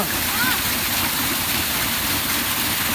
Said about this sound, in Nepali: यो पानीको फोर्सले यो टर्बाइन घुम्छ अनि यही टर्बाइनले चाहिँ माथि घट्टा घुमेर कोदो पिसिन्छ।